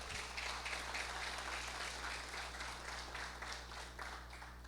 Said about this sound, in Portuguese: Vamos aplaudir Jesus por isso?